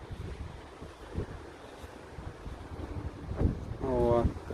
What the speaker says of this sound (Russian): До сих пор такой ветер мощный.